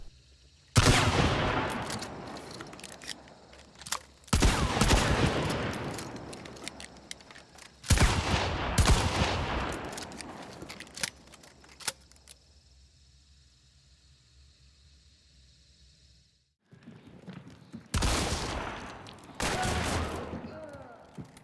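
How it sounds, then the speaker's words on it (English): Single sharp gunshots from the Romero 77 single-shot rifle in Hunt: Showdown, loud cracks repeating every few seconds, each trailing off into echoing rumble, with a quieter pause before the last shots. "the Romero 77 is a single-shot weapon and has a relatively fast swap speed"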